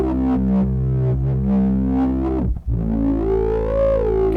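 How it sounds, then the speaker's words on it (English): A Pittsburgh Modular Microvolt 3900 synthesizer with distortion plays buzzy, harmonically rich notes, pulsing then dropping out briefly before a rising, throaty sustained tone. "We can get some really kind of enhanced distortion."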